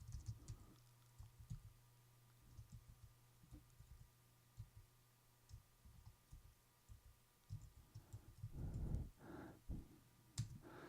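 Keys on a computer keyboard tap in quick uneven bursts as a name is typed, soft clicks over a low steady hum, with a denser flurry near the end.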